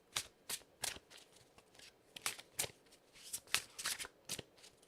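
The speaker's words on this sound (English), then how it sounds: "The sound of the cards shuffling is nice." Playing cards being shuffled during a deckbuilding card game: a quick series of crisp riffles and flutters in irregular bursts, close by and fairly quiet, with no talk over them.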